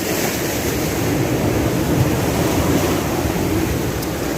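Ocean surf at Thanthadi beach near Vizag, a steady loud wash of breaking waves with wind rumble, continuous with no voices.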